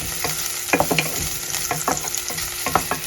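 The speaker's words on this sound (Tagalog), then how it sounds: "saute garlic and onions" Chopped garlic and onions sizzle in hot oil, with repeated scraping and clinking strokes of a spatula against the pan, close and steady with no talking.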